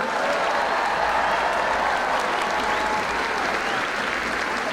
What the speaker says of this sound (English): we've got to give another round of applause to the 282nd Army Band